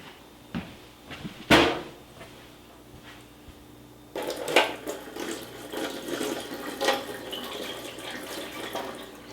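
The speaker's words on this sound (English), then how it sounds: "I'm going to dump out the liquid" Vinegar is poured out of a container holding an egg into a sink, a short splash first and then a sustained close gush of draining liquid with a few clunks.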